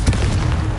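A Confringo fire spell explodes in Hogwarts Legacy on PS5, a short heavy boom with deep rumbling close up.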